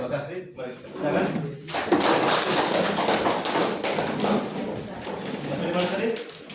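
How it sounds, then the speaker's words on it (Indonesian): A classroom of third-grade pupils claps hands together, dense and sustained for several seconds, loud and close with many overlapping claps. "Mari kita tepuk tangan."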